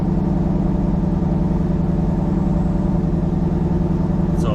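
Engine of a Ford Mustang Shelby GT350, cold after sitting, running steadily with a deep low rumble as the car is moved out, loud and constant with no talk.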